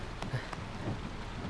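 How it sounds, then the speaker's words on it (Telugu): Heavy rain pours down in a steady, dense wash of noise with no break, moderately loud and continuous throughout. "వర్షం భయంకరంగా పడుతుంది."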